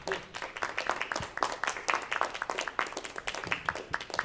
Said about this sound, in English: Yes, a round of applause for recap.